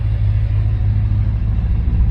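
A C3 Corvette fitted with a 200 4R transmission idles on jack stands as it is shifted into drive, giving a steady, close, low engine rumble with no voices.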